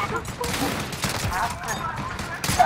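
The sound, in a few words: rapid gunfire, from a video game shooter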